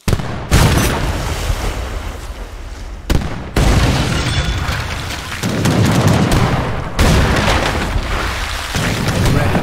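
Cannon fire in an Age of Empires battle set around the 1803 burning of the USS Philadelphia: loud booming blasts at about 0.5, 3 and 7 seconds over a dense, continuous roar of battle noise.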